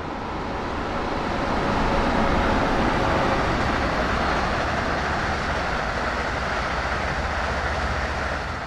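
An Amtrak ACS-64 electric locomotive in Train Sim World 2 builds power toward 70 mph, giving a steady, loud broadband rumble and rail roar that swells slightly and holds without a break.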